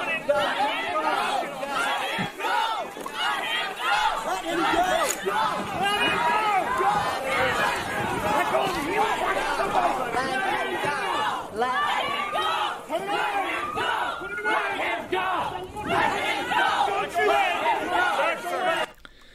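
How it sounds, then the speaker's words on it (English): A dense crowd near Mohawk College in Hamilton chants and shouts steadily as it closes around police officers making an arrest, a loud, continuous mass of voices with no pauses. "a crowd chanting, "Let him go," begins to surround the police officers"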